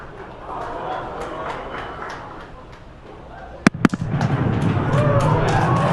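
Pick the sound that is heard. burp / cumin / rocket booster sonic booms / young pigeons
rocket booster sonic booms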